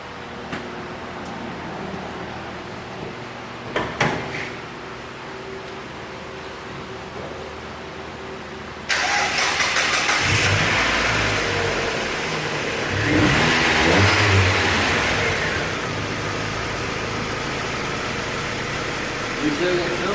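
A 1999 Mazda engine cranks and fires after a misfire repair, then settles into a steady running drone with a swell of revving midway, loud and close throughout.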